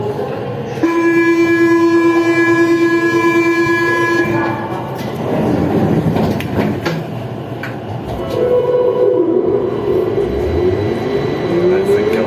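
A Siemens VAL 208 automated metro train runs between Basso Cambo and Balma Gramont, loud and close: a sustained tonal whine at first, then rumbling rolling noise that dips and swells, with a voice speaking over it.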